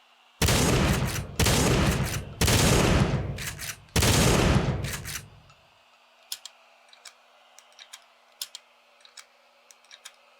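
Shotgun in the video game Black Mesa firing four heavy, booming blasts in succession, then a string of faint mechanical clicks and ticks from reloading afterward.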